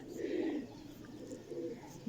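Golden pigeon, a prized breeder's bird, cooing in soft low rolling calls, close and fairly quiet, two swells of cooing with a brief lull between.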